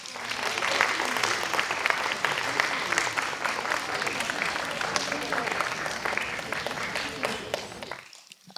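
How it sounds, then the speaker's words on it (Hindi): Audience at an awards ceremony claps for table tennis participants, a steady roomful of applause lasting about eight seconds before stopping abruptly. "सब इन लोगों को ताली बजाए।"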